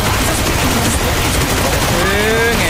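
Gunfire on the Sanhok map of the video game PUBG: loud dense bursts of rapid shots blending into a continuous crackling barrage, mixed with game effects and tones.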